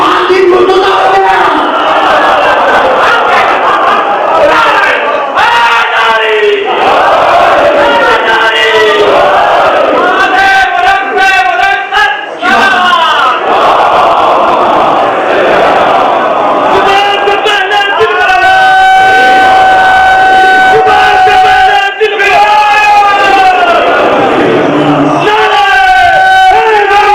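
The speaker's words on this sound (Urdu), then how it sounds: "چھٹا دن ہے جو اسی مقام سے نعرے لگائے جا رہا ہے نا" A large crowd at a Muharram majlis chants and shouts slogans loudly and close, with voices rising and falling together in waves. Drawn-out calls and cries swell over the mass of voices.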